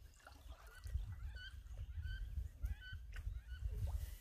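Wood ducks calling on open water during an overnight canoe trip, a series of repeated squealing whistles spaced about half a second apart, moderately near over a low rumbling background.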